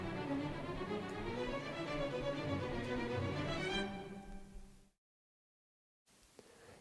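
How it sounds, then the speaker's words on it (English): Bowed string instruments playing détaché, each note taken with a separate change of bow direction, a dense continuous ensemble texture that fades out, followed by a stretch of silence and faint room noise. "the basic stroke on stringed instruments is called détaché"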